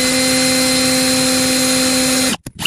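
A drill spins a Parkside 1.5 mm HSS bit against metal, a loud steady whine with a constant tone that fails to cut, then cuts off abruptly near the end with a couple of short clicks.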